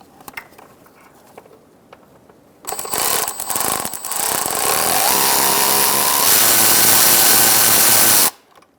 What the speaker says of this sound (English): We're going to use a 12mm socket. I'm going to try my swivel and take off this bracket.